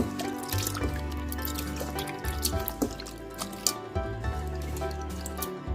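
Snail pieces being washed by hand in water with curd, giving a steady run of close drips, splashes and sloshing over a low background hum, with no talking.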